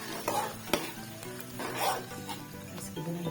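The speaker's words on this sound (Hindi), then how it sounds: "तो यहाँ मैं इसमें डाल रही हूँ जो आलू और मटर इसमें शामिल कर रही" Potatoes and peas are stirred into a frying masala for aloo matar curry, producing a close, continuous sizzle with rhythmic scraping and clatter of a spoon in the pan.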